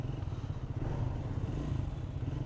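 A Triumph Scrambler 400X motorcycle engine runs after its second service with a steady, close, low rumbling drone that holds evenly throughout, with no one speaking.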